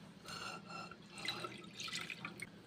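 A cup of milk poured into a small pot for basbousa, a soft, close liquid splash and trickle that runs for a couple of seconds, faint and without talking.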